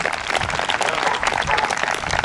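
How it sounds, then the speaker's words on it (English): Outdoor crowd at a women's march claps steadily, a dense, sustained wash of applause with no pauses, fairly loud and close. "Give yourselves a hand for showing up today"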